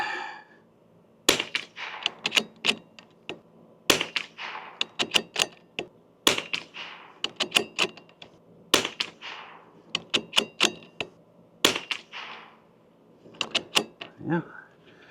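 Sharp Eley Ultra .22LR rifle shots fired at a paper target, a steady series of crisp, close cracks in small clusters, with faint movement and handling noise in the pauses between them.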